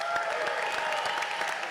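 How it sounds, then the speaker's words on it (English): Audience applause at a Boca Raton celebration honoring Florida Atlantic's men's basketball team after its Final Four season, a steady, even wash of clapping from a crowd holding at moderate level throughout. "If we could give them a round of applause"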